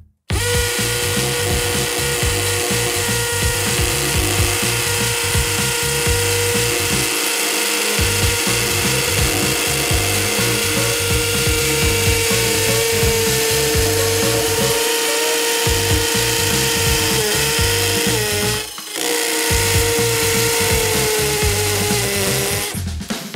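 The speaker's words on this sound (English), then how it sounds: "And we're gonna put it on hammer mode." A Harbor Freight hammer drill in hammer mode grinds steadily and loudly into masonry under heavy downward pressure, with a rapid pounding rattle, pausing briefly a few times before resuming, with no talking.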